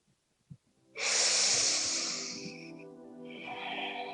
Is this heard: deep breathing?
yes